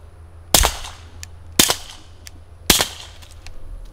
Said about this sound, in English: Silencer number one with the monumental 55 grain subsonic.